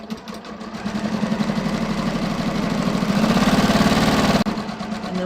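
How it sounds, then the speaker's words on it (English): A sewing machine runs steadily in a close, loud, continuous whir with a rapid stitching pulse, stitching near the edge of denim jeans fabric, stopping abruptly just before the end. "I'm literally going to just sew really close to the edge,"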